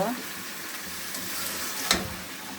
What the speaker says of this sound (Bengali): পাঁচ রকমের তরকারি দিয়ে সবজি রান্না করছি বড়ি দিয়ে